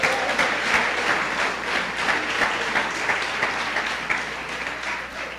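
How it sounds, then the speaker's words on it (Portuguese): A church congregation applauds the Lord, a dense, loud wash of clapping from many hands that holds steady for several seconds before easing slightly. "Dê uma salva de palmas ao Senhor."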